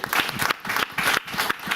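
Audience applause in a church gathering honoring Catholic sisters, a brief burst of dense clapping that swells and dips in waves, fairly loud and close, with no talk over it.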